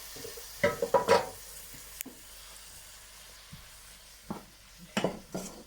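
A spoon scrapes and stirs through canned callaloo in a sizzling frying pan, in a few short bursts separated by quieter frying.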